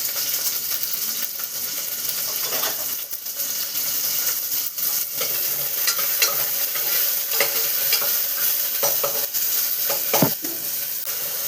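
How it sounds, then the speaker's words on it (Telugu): Drumsticks (munakkaya) tipped into hot tempering oil for a dondakaya munakaya curry, giving a steady, loud sizzle and crackle of frying with occasional stirring scrapes and a sharp clink near the end. "ఇప్పుడు పోపు వేసేసాను. ఈ మునక్కాయలు కూడా వేసేస్తాను."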